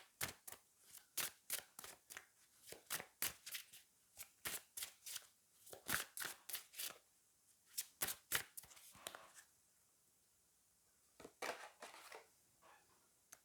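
Oracle cards from an Elki deck are shuffled by hand, close and quiet, in a run of quick riffling bursts with short gaps and a longer pause near the end.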